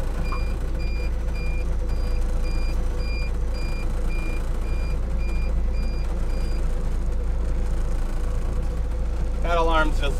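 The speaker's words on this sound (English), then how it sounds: "That alarm's just the autopilot. It just goes off when the boat's off course." A fishing boat's autopilot off-course alarm on a halibut longliner in Alaska sounds as a regular series of short, evenly spaced electronic beeps over a steady engine drone, then stops before a brief voice near the end.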